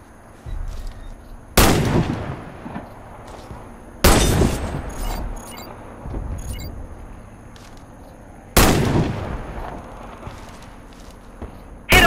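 Loud sniper rifle shots fired at targets in the shooter game Warface, four sharp single blasts spaced a couple of seconds apart, each trailing off with a long echoing decay and faint footsteps and movement between.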